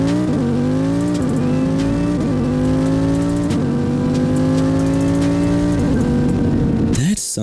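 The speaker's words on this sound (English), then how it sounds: "Sounds like a Lambo V10 if you ask me." Engine of an Italia Velocita, a V10-sounding supercar in a video game, revving hard with rising and falling pitch through repeated gear shifts, loud and close, ending in an abrupt burst.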